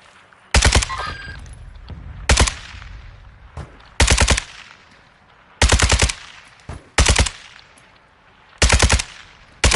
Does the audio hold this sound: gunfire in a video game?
yes